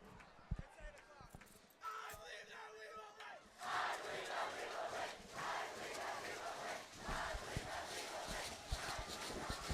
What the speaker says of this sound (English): Pretty easy to do that cheer when you're up 38-0.